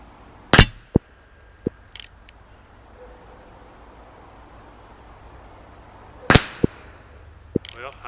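Handgun shots from a Glock and a revolver fired at steel targets 50 yards downrange: a few sharp, loud reports spaced several seconds apart, each followed by a faint distant ring or clang, over quiet outdoor background.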